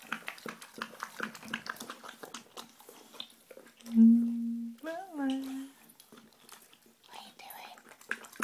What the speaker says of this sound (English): Stop drinking the water